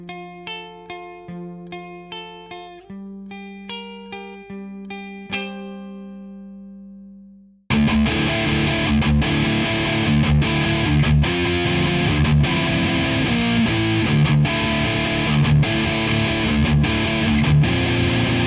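An Ibanez RGA42FM electric guitar on pickup position 3 first rings out clean, plucked notes, then switches to a loud, sustained distorted wall of strummed chords.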